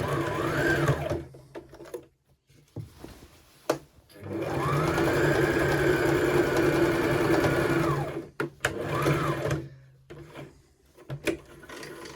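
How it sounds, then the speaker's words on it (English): A sewing machine sews a short section of a tiered maxi skirt at a 1/2 inch seam, with a few brief starts and then one sustained, loud run before stopping. "just sew this wee section at 1/2 inch"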